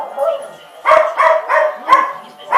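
Several small dogs yap in quick, high-pitched barks close by, about five or six sharp bursts in a row, overlapping one another.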